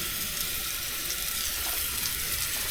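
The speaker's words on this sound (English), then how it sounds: "Them onions coming along good" Onions and steak sizzling on a high-output camp burner, a loud, dense, continuous hiss held steady throughout without pauses or talking.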